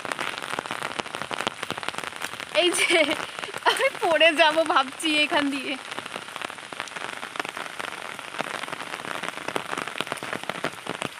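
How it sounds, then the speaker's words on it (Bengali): Steady monsoon-morning rain patters across an empty village road in a dense, even hiss, while someone speaks briefly over it near the middle before the rain carries on alone. "যদিও আজকে বৃষ্টি হচ্ছে"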